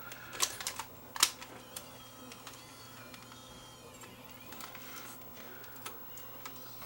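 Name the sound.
opening the tape compartment of a Sony CCD-TRV118 Hi8 camcorder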